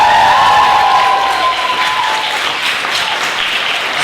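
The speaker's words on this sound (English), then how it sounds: "So can we have a little cheer and a big round of applause first of all?" A crowd at a Reclaim the Night feminist rally in Brighton claps and cheers. A few whoops ring out at the start, then steady applause continues throughout.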